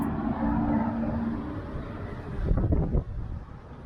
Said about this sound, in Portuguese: Eu não sei de onde que vem tanto vento nesse lugar, é impressionante, venta demais aqui.